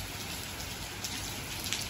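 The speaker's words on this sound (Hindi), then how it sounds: "यहाँ पर बारिश हो रही है ये देखिए आप" Steady rainfall at a fort hisses softly and continuously, an even wash of falling water with faint droplet taps, no voices.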